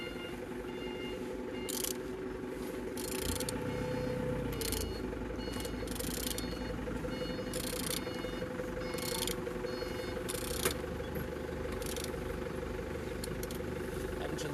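An aircraft engine is turned slowly by hand during a borescope inspection, giving a steady mechanical hum with a repeating ratcheting click and periodic bursts of noise, and no talking.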